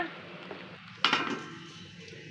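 A metal lid clanks down onto a pot of vegetable biryani, one sharp, close metallic clink followed by a brief ringing tail over low kitchen background.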